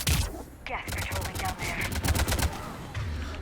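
Rapid bursts of gunfire from the video game Mass Effect 3, loud and close, with dense overlapping shots and automatic fire sustained throughout.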